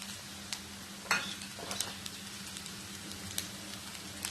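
Egg masala rice is stirred in a pan, with soft scrapes and a few sharper clinks of the utensil against the metal over a faint, steady sizzle, quiet and close.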